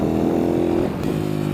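A YCF SP3 supermoto motorcycle engine drones steadily from an onboard position during a ride, loud and continuous with a slight shift in pitch partway through.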